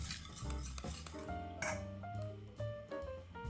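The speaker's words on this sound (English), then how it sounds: "Remove the saucepan from the heat and stir in room temperature butter." A utensil stirs room-temperature butter into hot caramel in a saucepan, scraping and clinking against the metal in a continuous rhythm with a faint sizzle underneath.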